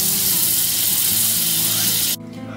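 Butter melting in a frying pan for an omelette gives a steady, loud hiss of sizzling that runs evenly for about two seconds and then drops abruptly to a quieter crackle.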